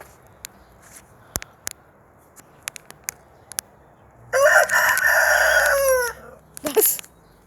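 A rooster crows loudly and close, one long drawn-out call near the middle, after scattered short clucks and scratchy footstep-like ticks from chickens in a yard; a few more clucks follow the crow.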